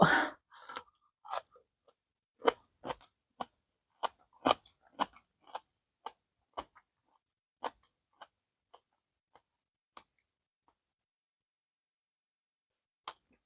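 Close, crunchy chewing of food: a dense burst of bites at the start, then a steady run of sharp crunches that thin out and fade, with no talking.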